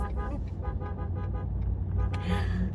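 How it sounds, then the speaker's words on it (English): A car horn toots amid road noise, with traffic rumbling steadily underneath and a brighter burst near the end. "honk for Jesus"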